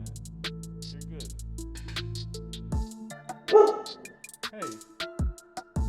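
A dog barks several times in short sharp bursts, fairly close, mixed in with someone talking over it in a casual indoor setting.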